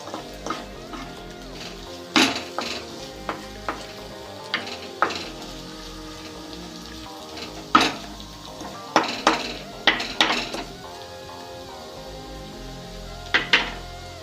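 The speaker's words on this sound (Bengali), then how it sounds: "আর কাঁচা লঙ্কা দেবো, দিয়ে আমি একটু নাড়াবো।" A spatula knocks and scrapes against a frying pan while radish greens with green chillies are stirred, irregular metallic clatters over a soft sizzle, close up with no talking.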